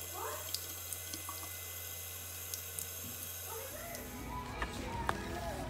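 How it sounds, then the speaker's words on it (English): Water runs steadily from a faucet into a sink while a cat drinks from the stream, a quiet, close trickle with small splashes and faint clicks throughout. "She loves to drink from the water faucet."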